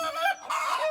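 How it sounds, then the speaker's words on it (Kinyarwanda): A cartoon hen calls her chicks with a loud, close, drawn-out clucking cry that dips briefly and then resumes, with no talk over it. "Inkoko nayo irahamagara imishwi."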